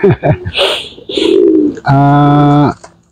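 A pigeon coos up close and loud, giving a few short throaty calls and then one long, steady, resonant coo. A person also talks briefly in the middle of the clip.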